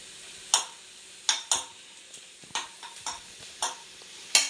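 Turmeric powder going into sautéed onions in a pan, heard as a few soft stirring and scraping strokes with a faint sizzle underneath, spaced irregularly.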